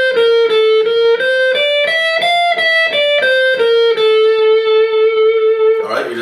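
Electric guitar playing a rapid alternate-picked single-note pattern that steps down and back up the scale, with clean, evenly spaced attacks close up and a short burst of noise at the very end.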